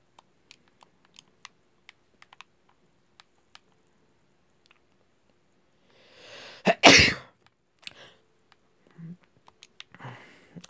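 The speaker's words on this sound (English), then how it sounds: "every time I sneeze, I always sneeze more than once" One loud sneeze up close from a player during a Minecraft survival session, preceded by a soft inhale and set against sparse keyboard and mouse clicks, with faint sniffs afterward.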